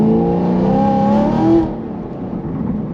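A 700 horsepower naturally aspirated LT1 Camaro accelerates hard in second gear, its engine note rising loud and close for a second and a half before dropping to a lower rumble.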